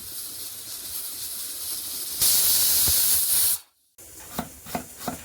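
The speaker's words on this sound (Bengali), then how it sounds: "তবে একটা পড়লো প্রেসারের সিটি" A pressure cooker whistle releases steam in a loud, harsh hiss lasting about a second and a half, after quieter background noise; it stops abruptly, followed by a brief silence and then a few soft knocks.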